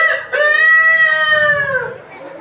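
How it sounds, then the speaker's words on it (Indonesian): A rooster crows once, loud and close, a long drawn-out call that holds steady then trails off, alone without talk. "pagi itu ayam jantan bangun dari tidurnya."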